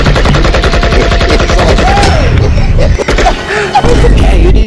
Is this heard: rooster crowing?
no